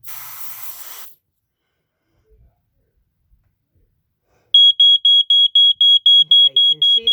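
A 1987 Wake And Warn smoke detector is hit with a second-long hiss of aerosol spray, then after a quiet pause its alarm starts a loud, close, rapid string of piercing beeps that keeps going.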